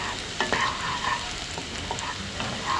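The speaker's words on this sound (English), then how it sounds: "I'm going to saute it until the raw garlic flavor is gone" Garlic sautéing and being stirred in a pan for dal makhani, with a steady low sizzle of frying under scattered scraping stir strokes at close range.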